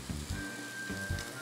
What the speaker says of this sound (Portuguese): eu vou pegar aqui só um pouquinho do molho que tá fervendo um pouquinho